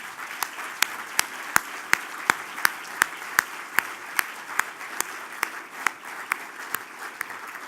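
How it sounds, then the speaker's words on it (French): Audience applauding the new fellows at an accountants' awards evening, many hands clapping in a unified, fairly rhythmic beat with sharp regular accents, close and clear. "Et je pense qu'on devrait les applaudir à nouveau."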